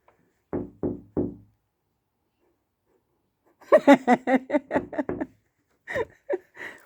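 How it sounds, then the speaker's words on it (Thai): Three quick knocks rap on a house door at night, followed after a pause by chuckling and a few short bursts of voices. "จะลองลองเคาะประตูนะ"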